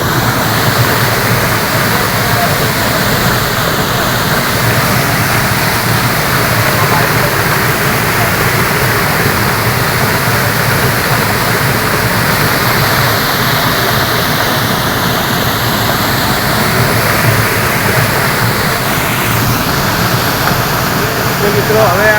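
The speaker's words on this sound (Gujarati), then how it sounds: "હવે આ રીતે પાણીનો ધોધ જોઈ લો।" Water gushes as a waterfall into Khan Sarovar lake in Patan, a loud, unbroken roar of rushing water that fills the whole stretch close by.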